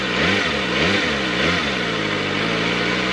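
Kawasaki ZX25R motorcycle engine in road mode, revved in a few rising and falling pulls before settling toward a steady idle, loud and close with no talking.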